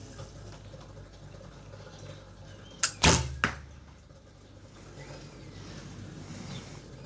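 A light arrow shot from a recurve bow: a quick cluster of sharp snaps and a thud near the middle, loud and close over a quiet outdoor background.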